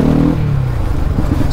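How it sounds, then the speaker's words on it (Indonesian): A 150cc supermoto motorcycle with an aftermarket exhaust, close and loud, revving briefly before settling into a rough, throbbing idle. "Sekarang knalpot suaranya tambah enak aja"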